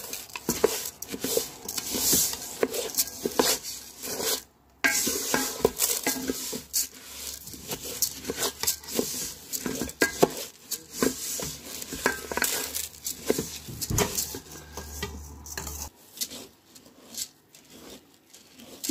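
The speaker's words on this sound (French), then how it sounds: "Maintenant, je vais rajouter le riz basmati." Basmati rice poured and stirred into golden vermicelli and onions in a pot, with dense close scraping, clinking of a spoon on metal and a soft sizzle throughout, no voices.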